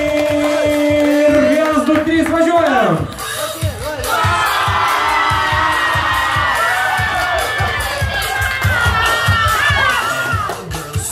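An audience at a live event cheers, whoops and shouts, with children's voices in the mix, loud and continuous, and whistling or tonal squeals rising over the crowd noise partway through.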